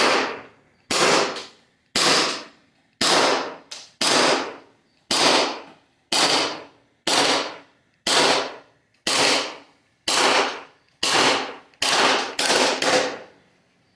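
An Airsoft Glock 45 Gen 5 replica pistol firing about fourteen sharp, loud, close shots, spaced roughly a second apart, each with a quick crack and short decay.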